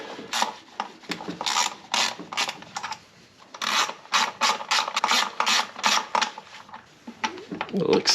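A ratchet backs out 10mm bolts on a Pontiac GTO engine, giving rapid, close bursts of sharp clicking in a steady rhythm with brief pauses between strokes.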